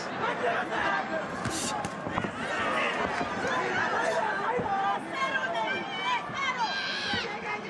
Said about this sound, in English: As you can hear this massive crowd in Tokyo trying to rally support for their hero